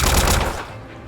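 Gunfire from an enemy ambush in the game Trails through Daybreak II, a loud burst of rapid shots in the first half that fades into a low rumbling tail.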